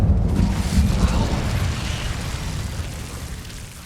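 The Incendio fire spell cast in the video game Hogwarts Legacy, heard as a loud, rumbling whoosh of flame that swells at once and slowly fades over a few seconds, alone with no talk.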